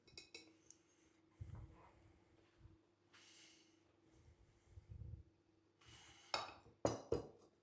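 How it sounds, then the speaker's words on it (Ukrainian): Whole small cucumbers packed one by one into a glass jar for quick-salted pickles, giving soft knocks and thumps spread out over several seconds, then a few sharper glassy clinks near the end. "І тепер що я роблю? Наповнюю вже всю банку огірочками."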